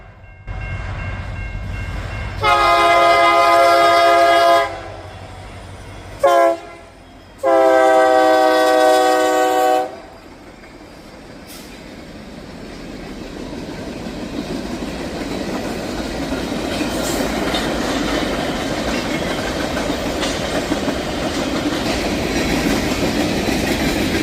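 A Union Pacific freight train in downstate Illinois sounds its horn in two long blasts with a short break, then the low rumble of rail cars rolling past steadily for a long stretch.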